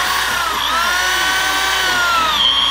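A power drill whines steadily and loudly on a timber frame house build, its pitch wavering slightly as it runs continuously close by.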